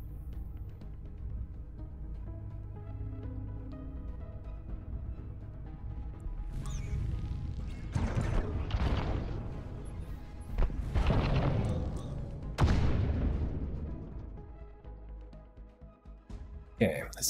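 Missiles strike and explode in the space combat game Breachway, several heavy booming blasts in quick succession, loud and rumbling over game music, with a voice talking throughout.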